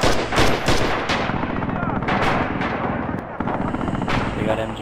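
Machine gun fire in the video game Rising Storm rattles in loud, rapid bursts from an MG on a bridge, dense and continuous, with other gunshots mixed in across the battle.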